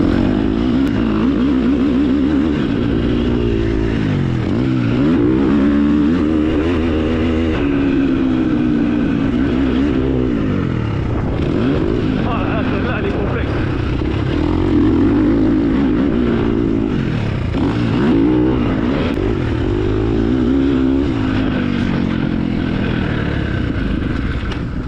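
Motocross bikes ridden by kids on a dirt track, engines droning and revving loudly and continuously, rising and falling as the bikes circle nearby.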